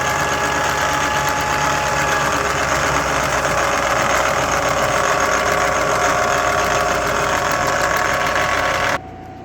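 A milling machine running at reduced speed with a loose chuck, spinning a 5 inch, 3 phase axial flux alternator: a steady, loud mechanical whir and hum with a faint rhythmic knock, dropping slightly just before the end.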